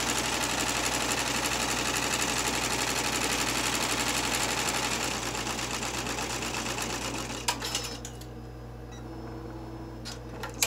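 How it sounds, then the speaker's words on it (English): An embroidery machine stitches out small mirror shapes on scrap fabric, a close, rapid, steady mechanical whirring and needle chatter that runs continuously before easing to a quieter hum near the end. "this is going to stitch out our mirror shapes"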